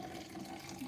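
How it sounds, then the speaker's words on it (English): Cloudy, dissolved solution is poured from a container into a glass, making a steady, soft liquid trickle that runs throughout at low volume with no talking. "And we are going to pour that directly into our glass."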